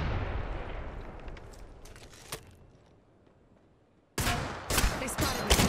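Gunfire in the video game Apex Legends: a decaying blast tail fades to near quiet, then a loud burst of sharp, rapid shots erupts close up in quick clusters.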